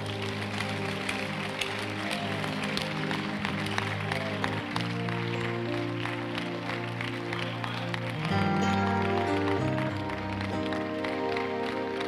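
A church congregation claps and cheers for Jesus during a sermon, sustained applause blended with organ or keyboard chords, steady and fairly loud throughout.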